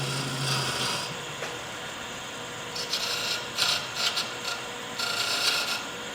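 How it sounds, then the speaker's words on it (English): A small diamond tool chamfers the edge of a stabilized wood ring spinning on a lathe, giving a steady soft rasping hiss with a few brighter scraping bursts toward the end and no talk. "I will take my little diamond tool and kind of chamfer"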